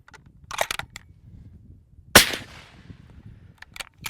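A single sharp report from a suppressed .308 bolt-action rifle fitted with a Rugged Micro30 modular silencer cracks close by, followed by a short decay, with faint clicks and handling noises before and after.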